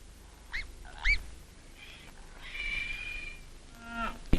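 Several short, nasal calls from cows sound at close range over a quiet background, like lowing or moos mixed with honk-like cries, on a 1948 Gloucestershire farm; no talking.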